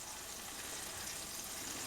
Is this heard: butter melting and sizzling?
yes